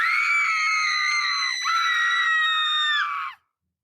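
A single sustained, piercing scream rings out loud and close, holding for several seconds with a brief dip midway before cutting off abruptly into silence.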